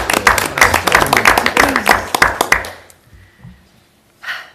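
A board meeting audience breaks into applause, a close burst of many hands clapping for about three seconds before tapering into quiet, followed by a brief sound at the end.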